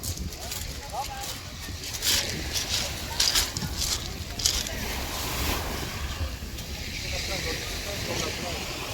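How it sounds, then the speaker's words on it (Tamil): Sea waves wash and break on a shore in Albania, a steady broadband roar with gusts of wind buffeting the microphone and a few louder surges. "ஆனா நல்லா அலை அடிச்சிட்டு இருக்கு"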